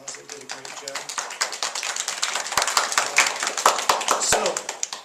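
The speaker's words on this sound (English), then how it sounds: "give this group one more round of applause" A classroom audience claps for a group, a dense patter of many hands going on steadily and fairly close, with voices talking over the applause.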